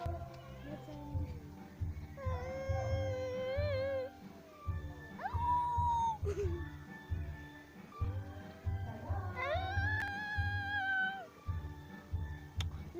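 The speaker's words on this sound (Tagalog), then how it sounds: "Today this cat is making weird sounds." A cat on the street gives strange, drawn-out meows and wavering yowls in several bursts. They ride over a steady rhythmic background throb and are clear and fairly close.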